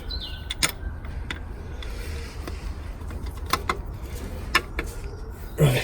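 Metal clicks and creaks of a wrench working a 14mm starter motor bolt loose on a Toyota Auris, sparse and close, with a sharper clank near the end over a low background hum.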